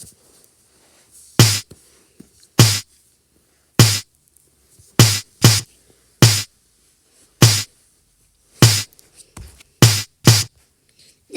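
A rhythmic sound loop from Ready, a character in the Sprunki video game: bright, sharp bursts repeating in an uneven pattern over a faint hiss, with no voices present.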